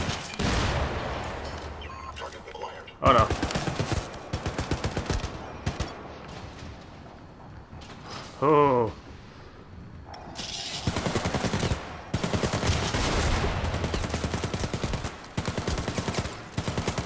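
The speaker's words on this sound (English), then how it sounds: "Wait, gunfire up ahead." Bursts of gunfire ring out in the Syndicate video game's corporate-war mission, with repeated rapid volleys and loud blasts spread across the scene, some stretches dense and sustained, others in short clusters.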